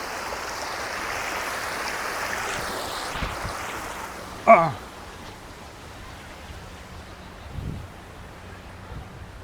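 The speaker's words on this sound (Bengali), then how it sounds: "পানি একদম উপর থেকে নিচে গিয়ে পড়তেছে।" Water falls from top to bottom of an artificial waterfall in Katara Hills park, a soft continuous splashing wash that fades lower partway through, broken by one sharp close knock.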